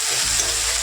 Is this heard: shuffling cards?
no